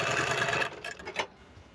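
Sewing machine stitching a sherwani: a dense run of fast mechanical stitching that stops partway, followed by a few scattered clicks and then quiet, close and with no speech.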